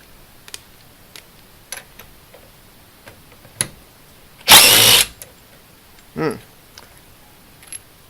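A DeWalt cordless impact driver gives one short, loud, close burst of hammering whir, then a brief softer spin, amid scattered small clicks and taps.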